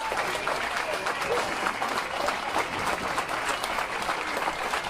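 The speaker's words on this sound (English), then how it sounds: "Xander was applauded by strangers at the airport" Strangers at an airport arrivals area applaud a returning Marine, a steady wash of clapping from a crowd that fills the whole stretch without pause, with some voices mixed in.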